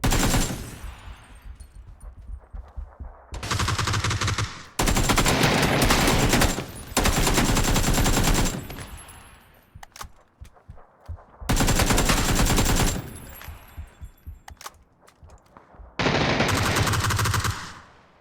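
Bursts of automatic gunfire from a weapon in the battle royale game PUBG, fired during a fight around a house, coming in several loud sustained volleys of rapid shots separated by short quieter gaps.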